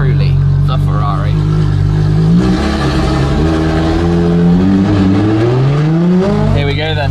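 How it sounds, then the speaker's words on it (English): Ferrari LaFerrari with a straight pipe exhaust, heard from inside the cabin: a loud, close engine climbs in pitch through several gear changes, roaring and revving under a voice. "Driving in the LaFerrari."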